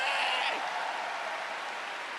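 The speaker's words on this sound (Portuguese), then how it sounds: "Pode aplaudir, pode aplaudir." Church congregation applauding at a Portuguese-language evening healing service, a dense steady wash of clapping that holds at an even level throughout, with a brief voice over it at the start.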